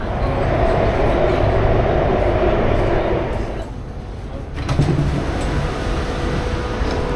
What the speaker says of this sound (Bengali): আমরা মাটির নিচে দিয়ে যাচ্ছি মাটির ভিতর দিয়ে যাচ্ছি সুড়ঙ্গের ভিতর দিয়ে যাচ্ছি